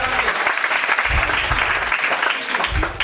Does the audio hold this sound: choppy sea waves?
no